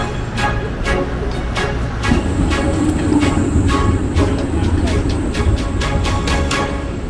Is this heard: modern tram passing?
yes